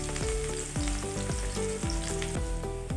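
Onions frying in oil in a pan, a steady close sizzle that runs throughout without pause.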